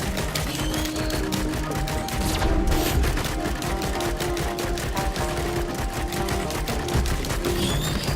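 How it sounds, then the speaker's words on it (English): Rapid, sustained gunfire from the video game Risk of Rain 2, a dense stream of sharp shots over a busy game soundtrack, loud and continuous throughout with a brief heavier burst near the middle. "Now that big shot, that shot right there, that actually cleaves through enemies."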